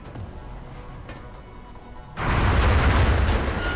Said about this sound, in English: Ah, damn it, I destroyed the console.